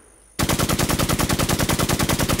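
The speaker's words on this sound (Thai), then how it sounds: "เฮ้ยปืนลั่นปืนลั่นปืนลั่นขอโทษขอโทษปืนลั่น" A gun in the game Infestation goes off by accident, abruptly breaking into a loud, evenly paced automatic burst of rapid shots that continues steadily after a short quiet start.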